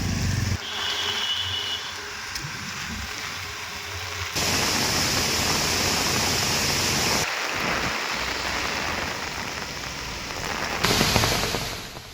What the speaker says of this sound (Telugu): అరకు లోయలో ఎడతెరిపి లేకుండా వర్షం కురుస్తోంది.